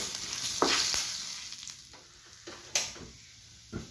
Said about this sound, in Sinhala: දැන් ඔයාලට පේනවනේ මේ ටෙම්පරාද හොඳට රන්නන් පාට වෙලා තියෙන කියලා